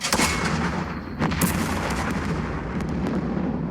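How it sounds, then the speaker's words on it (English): Artillery firing a smoke round in the war game Second Front, a dense rumbling burst of booming reports that fills the whole moment, loud and sustained. "That was my last smoke round."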